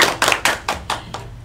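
Several sharp rounds of clapping from a small group in a classroom during a microteaching lesson, five or six distinct bursts in quick succession, close and fairly loud.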